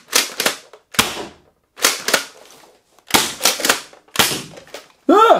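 A Dart Zone Pro Tomcat Superdrum foam-dart toy blaster fires close by in a string of sharp, clacky snaps, often in quick pairs, with brief silences between shots and a short chirping squeak at the end.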